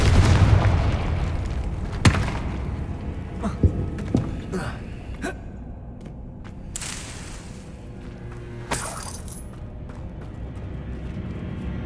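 Confringo fire spells burst in the video game Hogwarts Legacy on PS5, a series of booming blasts and sharp impacts scattered over a dense, loud bed of game noise, with a player speaking at times.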